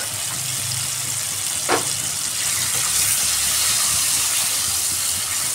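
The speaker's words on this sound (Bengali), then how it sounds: "পেঁয়াজের সাথেই আমি ফ্রাই করে নিচ্ছি ডিমটাকে" Steady hiss and sizzle of eggs frying with onions, turmeric and salt in a pan, a continuous close crackle with one brief clink partway through.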